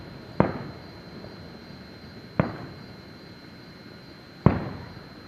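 Fourth of July fireworks burst three times at even intervals, each a sharp distant boom with a short fading tail over quiet background noise.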